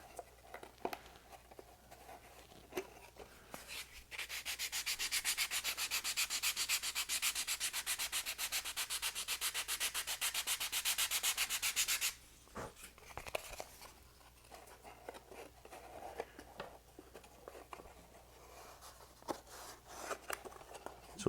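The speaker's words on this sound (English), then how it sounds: "We'll do a quick sand on that and make sure that's nice and straight." A 27% scale Midwest Giles 202 model airplane wing being sanded straight by hand, a loud steady rasping rub for several seconds amid quieter scattered scrapes and taps, up close with no talk.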